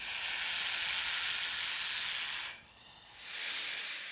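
Quiz-show sound clue of snakes hissing: a steady, loud broadband hiss runs for about two and a half seconds, dips briefly, then swells back in a second brighter burst, with no voices over it.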